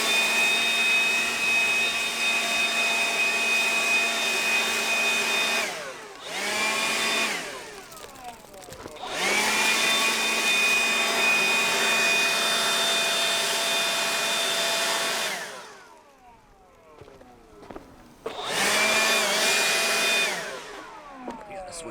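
A leaf blower clearing leaves from gutters during autumn property maintenance, a loud steady whining roar that cuts out and restarts several times, with brief quieter gaps between runs.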